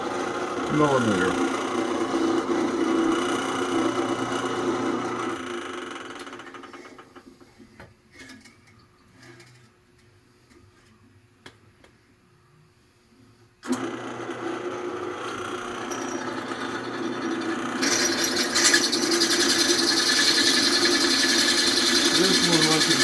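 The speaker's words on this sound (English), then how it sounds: "This one wasn't drilled at all, so the drill is drilling right away." An electric drill with a 10.5 mm bit bores into an air-cooled VW bus engine case, giving a loud, steady motor whir that drops away for several seconds mid-way, then resumes strongly.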